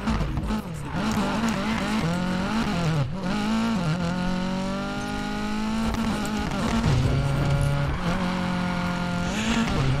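A high-revving car engine in the video game Need for Speed Payback roars continuously, pitch climbing and dropping through gear changes, loud and close with occasional tire squeals.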